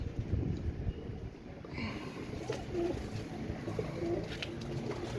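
Pigeons being readied for shipment from Pakistan to Iraq coo softly in low, repeated throaty calls over a steady background murmur, with no voices.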